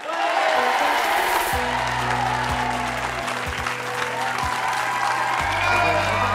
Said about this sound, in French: Je vous demande d'applaudir Pascal Selem.